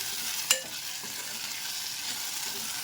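Tomato masala stirred in a pan for egg curry, a soft scrape with a sharp clink near the start, then a steady faint sizzle continuing alone.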